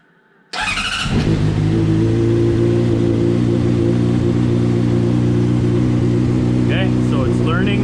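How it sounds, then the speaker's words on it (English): A 2005 Honda CBR600RR motorcycle fires up abruptly and settles into a loud, steady close-up idle with strong low harmonics, then the engine is briefly revved near the end. "So we are going to start the bike."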